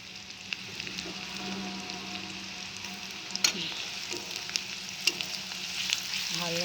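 Bay leaf and whole cloves frying in hot oil in a pan, a steady soft sizzle and crackle with a few sharp pops, close and continuous with no talking.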